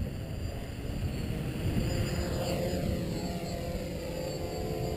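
A multirotor drone with Naza GPS takes off and flies, its motors producing a steady, close, buzzing whine with shifting pitch over several seconds.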